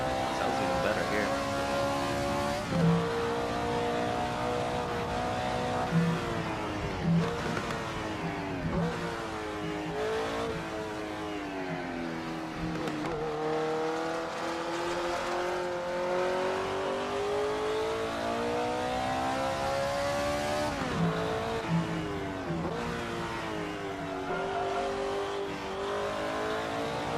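Race car engine in the Assetto Corsa racing game, revving steadily and rising and falling through gear changes as it laps a track, heard from outside the car, loud and continuous with a voice talking over it.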